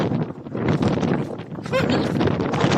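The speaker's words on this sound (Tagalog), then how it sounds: "Lakas ng hangin." Strong outdoor wind buffeting the microphone with a steady, rough roar throughout, while people talk over it.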